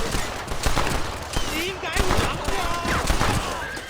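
Rapid gunfire crackles in Red Dead Redemption on PS5, a dense run of sharp shots under someone talking, with pitched whistling sounds mixed in.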